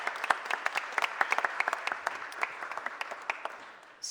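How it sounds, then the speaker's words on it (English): Applause at a mayor's press conference, crisp individual claps from a modest crowd, fairly close, thinning gradually as the clapping tapers off. "Give her a round of applause."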